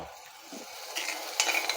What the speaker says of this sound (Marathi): आणि चांगलं तेल सुटेपर्यंत हा मसाला आपण परतून घेऊयात